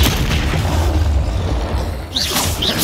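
A Flipendo spell lands in Hogwarts Legacy amid a dense, continuous din of booming magical combat, with a couple of short whooshing sweeps near the end and no talking.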